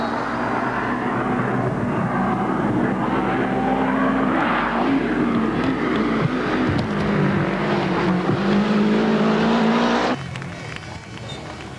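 Lancia Delta rally car on a special stage in the 1990 season, engine roaring loud and sustained for about ten seconds with shifting pitch, then cutting abruptly to quieter ambience.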